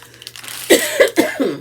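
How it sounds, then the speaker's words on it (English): A sick woman lets out a short series of harsh coughs, about four bursts in quick succession, close to the microphone with no talking. "I can feel a coughing fit coming on"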